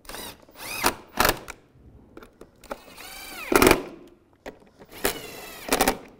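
A power tool runs in short bursts, tightening the bolts on the front bumper panels of a 2015-2020 Cadillac Escalade, each whir close and loud, with quiet gaps between the bursts.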